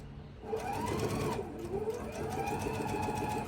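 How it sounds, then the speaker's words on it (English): Sewing machine running steadily to stitch quilt pieces together at a 2.0 stitch length, a close, continuous whirring hum that keeps on for several seconds with no talk. "So let's go ahead and we'll sew this together."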